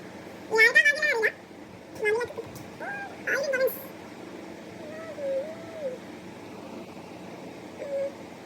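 A Persian cat meows several times, short high mews spaced a second or so apart, close and clear in a quiet room.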